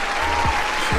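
Loud, dense applause from a crowd fills the second as a continuous burst of clapping, with no speech over it.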